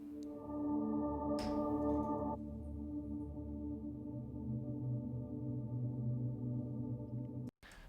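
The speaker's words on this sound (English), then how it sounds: "And then I'm also using this sweeps pad." A sweeping synthesizer pad holds a sustained, shimmering chord that shifts partway through, with a brief bright swell early on, steady and alone before cutting off near the end.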